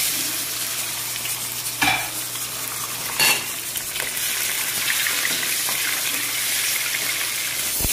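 Loud continuous sizzling of eggs frying in oil in a pan, a dense hiss with a couple of sharp clanks of utensil against the pan, close up, no voices.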